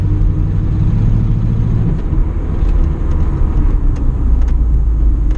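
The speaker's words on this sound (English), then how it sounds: "It sounds like a late 70s muscle car." A second-generation Pontiac Formula Firebird muscle car driving, its low engine rumble steady and close from inside the cabin, with a slight drop in tone partway through.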